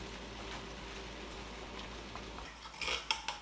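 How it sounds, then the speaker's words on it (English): A utensil stirs through a pot of spaghetti meat sauce with sliced white mushrooms, giving a soft wet churning and then a few sharp metallic clinks against the pan near the end. "And we'll give that a good stir."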